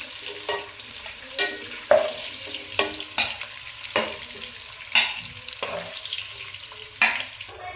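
Boiled eggs being fried and stirred in a pan for egg biryani, sizzling oil under a steady series of scraping, clinking spoon strokes that repeat roughly every half second to second, close and fairly quiet.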